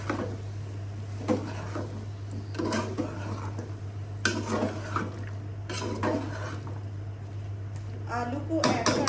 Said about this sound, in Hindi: अभी ऐड करेंगे इसमें आलू।